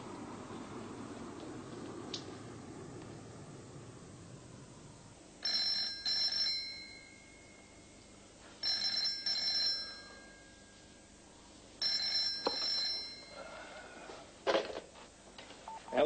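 An old-style landline telephone bell rings in a domestic drama scene, three separate bursts of ringing spaced a few seconds apart, clear and moderately loud over a quiet room, with a final click as the receiver is picked up.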